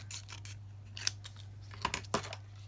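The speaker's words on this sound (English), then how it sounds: "No, I'm going to cut it so down the crease." Scissors cutting scrap paper down a fold crease for a journaling project, several quiet crisp snips spaced apart over a low background hum.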